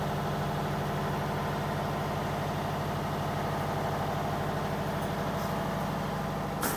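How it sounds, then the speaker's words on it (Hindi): A silent 15 kVA double-cylinder diesel generator of the Chadda Sunil make runs steadily at close range, giving a low, even, pulsing engine drone that holds constant throughout. "ये साउंडलेस जनरेटर है, आप देख सकते हो।"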